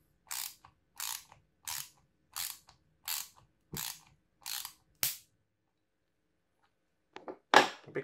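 An Ingco double-ended ratchet screwdriver clicks in eight evenly spaced, close, crisp bursts, then pauses and gives a couple of quieter clicks and one final louder burst.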